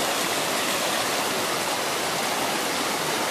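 A forest stream flows and rushes in a dense, steady wash of water noise, close and loud with no pauses, on a trek through woodland along the creek.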